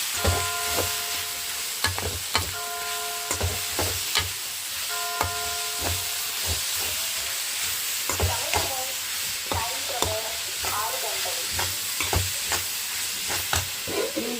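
Crushed shallot paste frying in a pan, a steady broadband sizzle with repeated metallic clinks and scrapes of a spoon stirring, close and continuous throughout.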